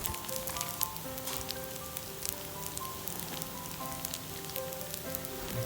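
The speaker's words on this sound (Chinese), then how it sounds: "然后再炒1到2分钟就差不多了。" Chicken rice stir-frying in a wok for Thai khao man gai, a steady close sizzle with scraping stirs running throughout and no talk.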